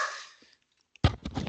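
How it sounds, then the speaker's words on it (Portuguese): A dog gives a single short, fairly faint bark after a brief silence. "tem um cachorro aqui latindo"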